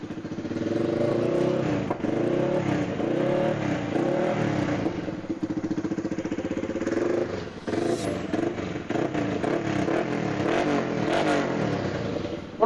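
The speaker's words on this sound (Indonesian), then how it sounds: "cuman knalpotnya aja yang rada berisik ya, karena udah menggunakan knalpot racing" A motorcycle engine idles and revs through a loud racing exhaust, with a throaty, rapid burble rising and falling close by.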